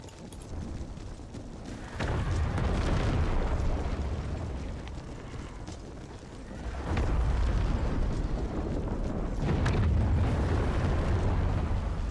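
Regiment musket volleys in the Empire: Total War strategy game, several surging waves of crackling gunfire and booming rumble that rise at intervals over steady battlefield noise, fairly distant and without talk.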